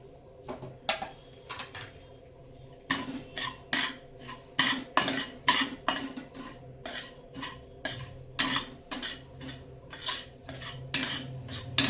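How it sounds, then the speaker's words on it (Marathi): Poppy seeds roasting in a pan, stirred briskly with a metal spoon. After a quiet start, a rapid run of close, crisp scraping and clinking strokes against the pan follows, with no voices. "त्याच्यामध्येच आपण खसखस पण परतून घेऊया"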